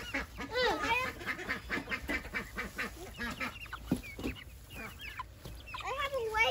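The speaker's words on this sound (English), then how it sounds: "we got some chickens on the loose" Chickens loose in the woods on a hobby farm cluck and squawk nearby in a busy, overlapping chorus, with a few louder calls and a voice heard briefly.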